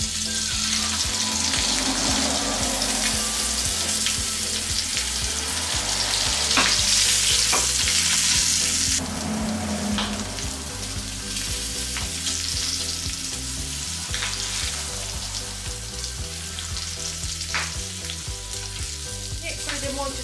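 Skin-on wild boar roast searing in a hot pan, a loud continuous sizzle and crackle that swells in the middle and then settles, with no one talking.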